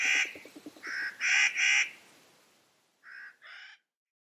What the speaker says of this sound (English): By comparison, the nutcracker's calls are harsh and grating.